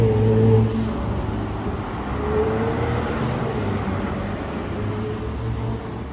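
A sports car passes in the streets of Paris with a loud engine note that peaks at the start, settles into a sustained rumble and fades, set against a wash of traffic noise.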